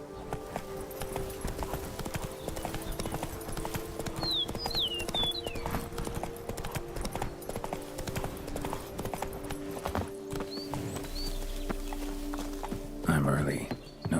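Horse hooves clip-clop at a steady walking pace in The Witcher 3 video game, set over a continuous ambient bed with faint bird calls, and someone speaks briefly.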